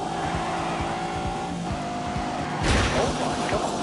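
A big, powerful car accelerating hard, reaching sixty in 3.4 seconds, its engine roar loud and steady from inside the cabin with rising pitch and a sharper surge near the end.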